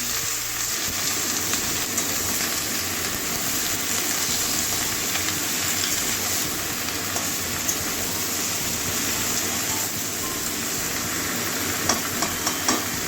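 Washed mixed vegetables for a pea labra curry frying in a pan, a steady dense sizzle with stirring scrapes running throughout, fairly loud and close, no voices.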